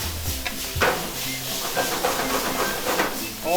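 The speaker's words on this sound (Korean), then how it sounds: "센 불에서 이렇게 쫙 볶아줘야 기가 막히게 맛있는 거거든요." Sichuan eggplant and chopped green onion stir-fried over high heat, giving a steady loud hiss and sizzle with scraping stirs throughout.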